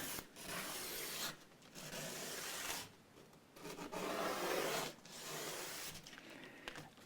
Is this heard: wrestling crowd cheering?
no